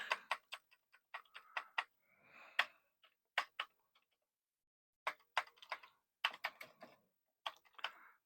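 Keys clatter on a Commodore 64 keyboard whose A key needs work: close, crisp clicks in quick irregular bursts, with a short pause midway before the typing resumes.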